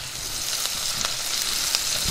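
Finely chopped ginger frying in hot oil alongside onions and whole spices for a tomato and egg stir fry, a close, steady bright sizzle with a few soft crackles.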